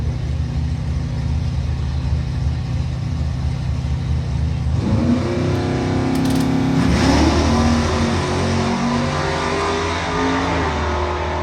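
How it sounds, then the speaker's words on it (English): A Dodge Challenger drag car launches in an all-Mopar final at a drag strip. The engine burbles at the line, then bursts into a loud, rising full-throttle roar that holds strong as the car pulls away. "It's going to be the Challenger leaving first here in our all Mopar final"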